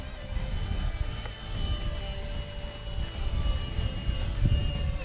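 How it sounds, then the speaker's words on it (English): A Freewing Seagull 1400mm electric ducted fan RC airplane flying past, a steady whining fan drone with faint tonal lines, continuous and moderately loud over outdoor wind noise. "Very nice flying airplane"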